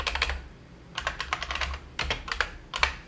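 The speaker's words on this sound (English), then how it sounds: "So on the keyboard, you can just hit the up arrow, change update to upgrade," A command is typed on a computer keyboard, fast close-up bursts of clicking keys in three or four quick runs separated by brief pauses, with no talking.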